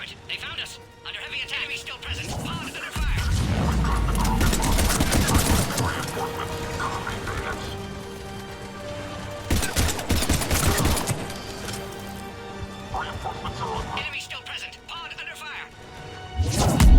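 Heavy gunfire in Mass Effect 3 during an attack on an escape pod, loud bursts of shots and crashing impacts in two main waves, with a voice talking through and between them.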